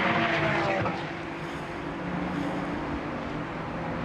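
Ferrari Challenge race cars at The Bend circuit roar down the track toward turn 1 in a battle for the lead, a loud close engine snarl that eases slightly and holds steady.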